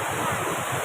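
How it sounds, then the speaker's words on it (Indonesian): The flooding Deli River overflowing its banks gives a steady, dense rush of water, a constant roar that stays loud and even throughout with no pauses and no speech. "Kondisi air dari sungai itu sudah benar-benar meluap"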